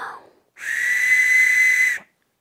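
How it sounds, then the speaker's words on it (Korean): A handmade whistle blown once, giving a single loud, steady shrill tone that holds for about a second and a half and then stops cleanly, with a brief soft sound just before. "호루라기를 한번 불어볼까요?"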